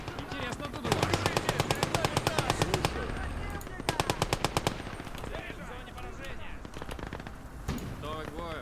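Rapid bursts of machine gun fire rattle in a war video game battle, several distinct volleys of fast repeated shots with voices in the background.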